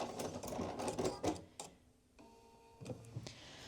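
A sewing machine runs in short bursts while stitching the ribbed cuff seam of a cashmere-style Stanton hoodie, with brief pauses and a back-stitch at the start and end, the motor whirring up close.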